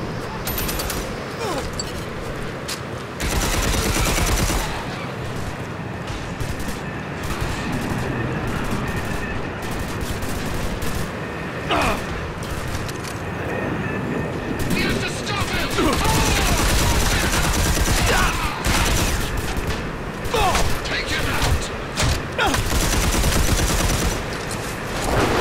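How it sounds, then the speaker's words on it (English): Sustained gunfire from Red Faction Armageddon, a 2011 PC shooter, rattles in continuous loud bursts alongside mechanical clatter and booms, with voices speaking now and then over the din. "I'm getting shot at"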